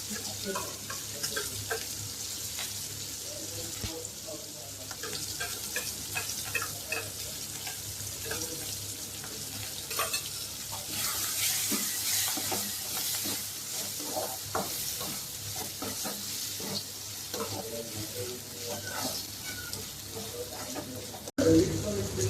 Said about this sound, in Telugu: టూ టేబుల్ స్పూన్స్ ఆఫ్ అల్లం వెల్లుల్లి పచ్చి వాసన పోయే వరకు వేయించుకోవాలి